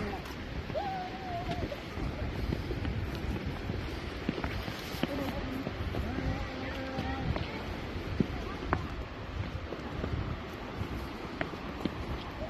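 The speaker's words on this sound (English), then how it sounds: "it's going to get windy again, isn't it?" Gusty wind buffets the microphone in a steady rough roar while walking around old gun bunkers, with footsteps and scattered faint voices underneath.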